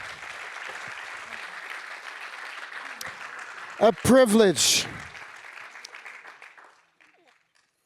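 An audience at a public parks talk applauds warmly, steady mid-level clapping filling the room for several seconds, briefly overlapped by a speaker's voice before the applause tapers off into near silence.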